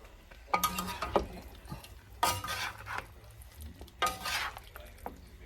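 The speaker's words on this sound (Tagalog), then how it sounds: "Ngayon, haluin na natin." Beef and broccoli being stirred in a pan, with a utensil scraping and clinking against the metal in three distinct bursts over a soft, steady sizzle.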